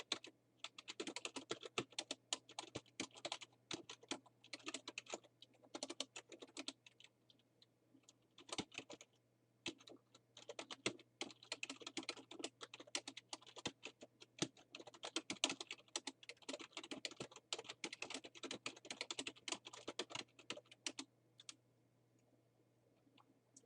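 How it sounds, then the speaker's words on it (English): Fast, steady typing on a computer keyboard: dense bursts of light clicking keystrokes go on for about twenty seconds with short pauses, quiet and close, then stop, with no voices. "I want to type in some labels here."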